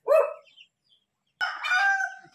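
A rooster in a rural countryside yard crows loudly and close by, with a short call followed by a longer, drawn-out cock-a-doodle-doo after a brief silence.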